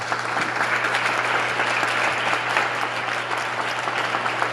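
Sustained, dense applause from an audience at a museum event honoring the state governor, even and continuous with a faint low hum beneath.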